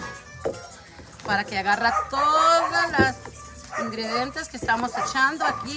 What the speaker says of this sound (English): Please excuse my dog over there going crazy because he hears us all.